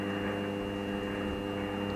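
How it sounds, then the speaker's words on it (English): A cheap DIY mini lathe with its spindle switched to reverse runs at a steady, even hum with a constant motor whine, close and continuous. "When you sweep up this, the spindle will be reversed like this."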